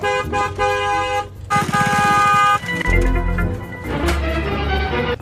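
A car horn honks several times in quick succession at a rickshaw, loud and close, with an engine rumbling underneath between the blasts.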